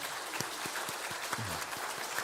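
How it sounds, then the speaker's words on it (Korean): Scattered, fairly faint hand claps ring out in a loose rhythm, a small church congregation applauding in a reverberant sanctuary. "여기까지 인도해 주셨던 우리 하나님 앞에 감사드리면서 영광의 박수 다시 한번 올려드립니다."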